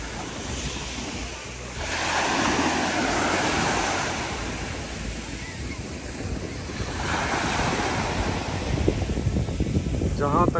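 Mediterranean waves wash onto the beach at Platja d'Aro on Spain's Costa Brava in broad surging swells, with wind blowing across the microphone throughout.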